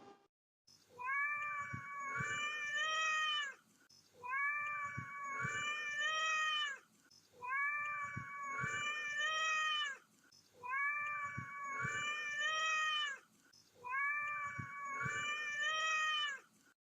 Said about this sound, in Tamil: பூனை